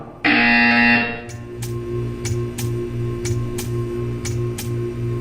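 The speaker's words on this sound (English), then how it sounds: "You will hear a buzzer." A loud, sustained buzzer blares for about a second in the Portal 2 video game test chamber, followed by a steady series of evenly spaced clicking ticks over a low electronic hum.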